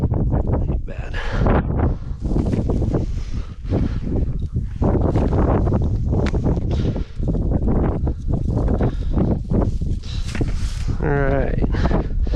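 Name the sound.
wind blowing outdoors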